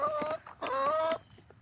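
Backyard hens give two bursts of clucking and soft crowing-like calls, close and fairly loud, separated by a brief pause with quieter scratching noises after.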